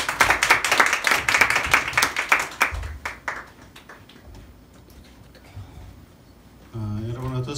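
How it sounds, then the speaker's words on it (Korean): A church congregation claps together in praise to God during a Korean sermon service, a loud rhythmic burst of hands that fades out, after which a voice begins to speak. "하나님께 영광의 박수 올려드리겠습니다."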